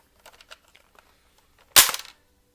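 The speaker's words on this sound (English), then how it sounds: "it sounds like I'm breaking the plastic" A sharp, loud plastic snap rings out once as a piece comes off a toy transformation belt, after a few faint clicks and handling noises, then quickly fades.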